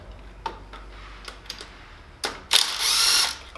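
A ratchet clicks in short bursts while bolts come off the cover of a Genuine G400C motorcycle, followed by a louder buzzing run near the end, close and without talk.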